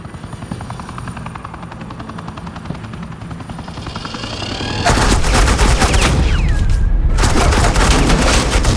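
Gunfire in the video game Batman: The Enemy Within plays over a steady helicopter drone. Loud, dense bursts of shooting break in partway through and stay close, with a brief pause in the middle.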